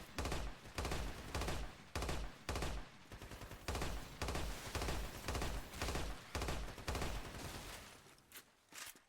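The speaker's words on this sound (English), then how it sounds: "This one is the 3-round burst weapon." A 3-round burst weapon in Lost Planet 2 fires again and again in rhythmic volleys, each burst a tight cluster of three punchy shots separated by short gaps, loud and close, tapering off near the end.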